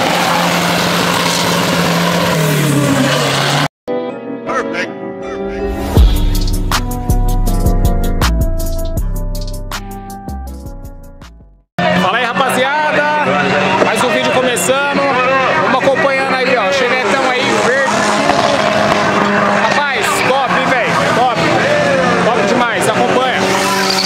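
A turbocharged Chevette 2.0 with an FT300 ECU revving and accelerating hard, a loud, sustained engine roar that drops out briefly, then returns with rising and falling revs under chatter and music.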